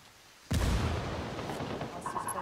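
A grenade detonates in the tactical shooter Ghost Recon Wildlands with a sudden heavy boom half a second in. A long, rumbling roar follows and fades under faint background game noise.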